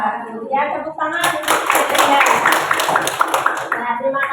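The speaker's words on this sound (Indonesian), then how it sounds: "Ya, tepuk tangan." A classroom group claps hands in a fairly close, lively burst of uneven claps, mixed with children's voices and chatter.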